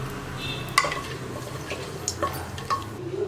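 Cinnamon, cardamom, cloves and a bay leaf fry in hot oil in a pressure cooker, a soft close sizzle with a few small pops and light stirring, no voices.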